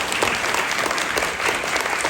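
Audience applause at a literary competitions awards ceremony, honoring winner Anthony Torres: steady, dense clapping from a crowd filling the room, continuous throughout with no voices.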